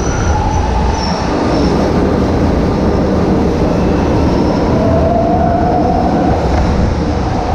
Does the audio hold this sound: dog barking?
no